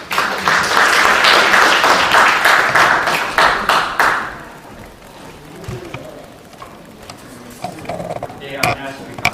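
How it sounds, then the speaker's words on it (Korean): An audience at an event in the National Assembly for promoting Korean wild ginseng claps loudly for about four seconds to welcome a speaker, then the applause dies away into room noise and scattered sounds. "여러분 뜨거운 박수로 맞이해주시기 바랍니다"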